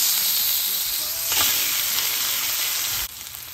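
Patty melt burger meat sizzling as it goes back into a hot pan: a steady, loud frying hiss with brief crackling bursts, which drops off abruptly near the end.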